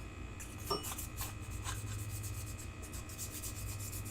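Sandpaper rubs the inside of a handmade metal ring band in quick, irregular scratchy strokes, faint and close against a steady background hum.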